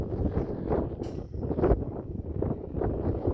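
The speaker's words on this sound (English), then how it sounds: "Sorry, it's a little windy today, folks, so bear with me." Wind rumbles against the microphone in uneven, low buffeting gusts that carry on steadily throughout.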